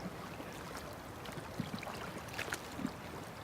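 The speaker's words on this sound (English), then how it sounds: "Babbling brook." A babbling brook in the Canadian Rockies flows steadily nearby, a broad rushing wash of water with a few faint splashes and gurgles.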